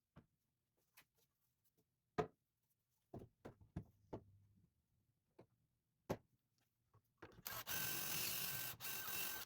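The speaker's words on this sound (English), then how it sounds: "we are about done with the pocket hole drilling for the 2x6s" Pocket holes being drilled into 2x6 boards with a jig. Scattered knocks and clicks come first, then a short, loud burst of drilling near the end.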